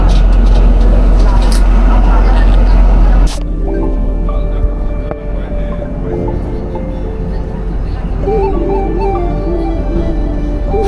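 Shimla toy train on the Kalka-Shimla line: a loud rumble for the first few seconds gives way to a steadier running noise with squeals and tonal whines, and no clear talking.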